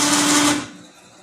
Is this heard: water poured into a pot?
no